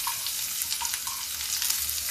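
Onions sizzling in oil in a pan on low gas heat, alongside cumin and bay leaf, for a watermelon sambar; a steady, fairly quiet hiss runs throughout with a few faint clinks, and nobody speaks.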